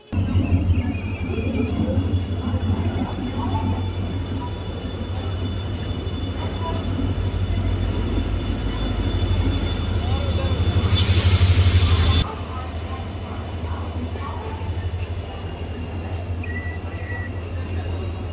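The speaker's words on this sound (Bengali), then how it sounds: "হাওড়া থেকে ব্যাঙ্গালোর পর্যন্ত আমাদের ট্রেনকে নিয়ে যাওয়ার জন্য সামনে লোকোমোটিভ যুক্ত হয়েছে" Howrah to Bangalore Duronto Express train with its locomotive attached, a loud continuous rumble of rolling wagons at a station, with a steady high whine and a short burst of hissing air before the sound eases.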